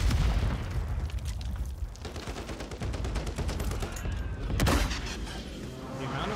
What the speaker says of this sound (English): The amount of grenades that were just on my screen.